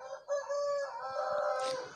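A rooster crows at a pet farm where chickens are kept, one drawn-out cock-a-doodle-doo rising and holding near the microphone, with a few soft clucks and faint farmyard noise beneath it.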